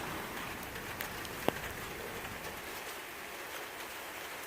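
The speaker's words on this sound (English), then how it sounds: "I'm listening to the rain, trying to fall asleep." Steady rain falls continuously, a soft broadband hiss with one brief sharper drip or tap partway through.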